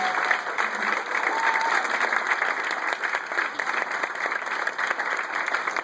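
Warm, sustained audience applause at a charity event held at Microsoft, recognizing corporate sponsors including Home Depot; steady clapping from a moderately sized crowd with no speech.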